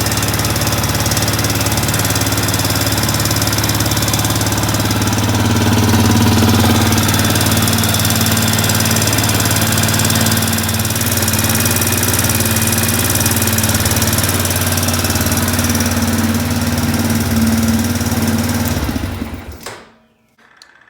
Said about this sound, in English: We're just gonna let it idle and get up the temperature